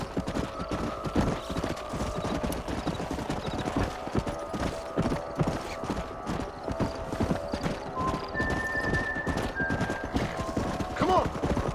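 Horses clip-clop steadily in the video game Red Dead Redemption, a dense, continuous run of hoofbeats close by, with voices talking over them and a brief whinny-like tone.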